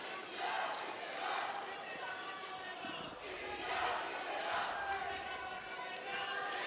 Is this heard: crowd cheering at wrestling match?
yes